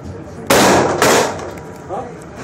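A Sig Sauer P220 Scorpion Elite pistol fires two sharp shots about half a second apart at an outdoor gun range, close and loud, each leaving a brief decaying echo.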